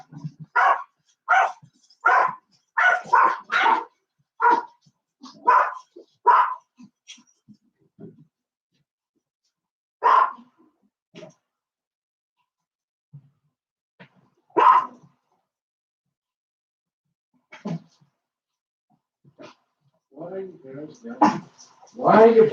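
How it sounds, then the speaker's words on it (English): A dog barks in short repeated bursts, loud and close, with several quick barks early on, then sparser single barks and a final flurry mixed with a voice. "Why are you barking? Stop it!"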